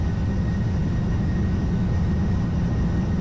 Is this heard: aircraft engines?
yes